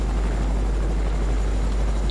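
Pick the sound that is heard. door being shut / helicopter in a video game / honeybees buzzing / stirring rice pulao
helicopter in a video game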